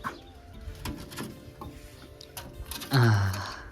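A pigeon gives a loud, low cooing call near the end, after a few seconds of soft rustling and faint bird sounds.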